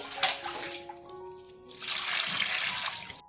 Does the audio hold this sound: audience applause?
no